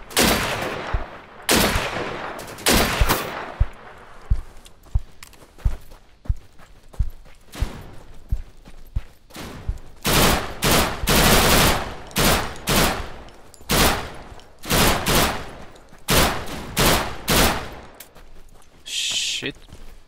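Deadside gunfire rings out in repeated loud bursts and single shots, clustered volleys separated by short gaps, close and punchy across the whole stretch, with a speaking voice now and then.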